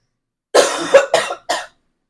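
Three harsh, close coughs in quick succession, the first drawn out and the last two shorter, with silence around them.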